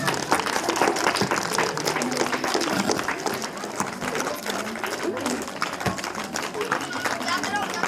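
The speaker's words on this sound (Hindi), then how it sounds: "इस मनमोहक गोजर नृत्य के लिए एक बार फिर जोरदार तालियां" Audience applause following a Gojar folk dance performed by students at a stage event, a dense steady clatter of many hands filling the whole stretch, with voices mixed in.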